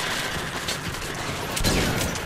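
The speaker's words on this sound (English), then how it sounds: "Do you want a gunshot instead?" Gunfire in the Metro Last Light video game, Spider Lair DLC, as dense broadband bursts keep up loud, steady shooting throughout, with a heavier blast near the end.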